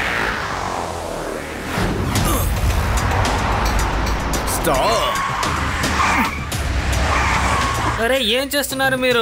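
A car brakes hard and skids with a loud, sustained tire scrape and rumble lasting several seconds, followed by a voice shouting close by near the end.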